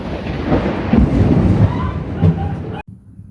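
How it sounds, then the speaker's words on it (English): Thunder from a thunderstorm rolls in a deep, loud rumble that swells and fades over a few seconds before cutting off abruptly, with faint rain-like hiss underneath. "might ought to let this thunderstorm pass"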